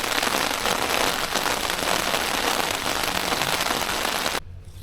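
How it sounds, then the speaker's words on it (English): Steady rain falls at night on a lightweight camp shelter, a dense, loud patter of drops drumming close overhead, continuous until a sudden drop in level at the end. "Rained off and on all night long."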